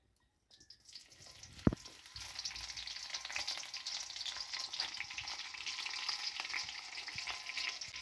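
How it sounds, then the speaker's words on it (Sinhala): Red onions dropped into hot oil for a Sri Lankan village-style meal sizzle and crackle steadily after one sharp clunk, a close, continuous frying hiss with no talk. "දැන් අපි තෙලට මේ රතු ලුණු ටිකක් දාගන්නවා."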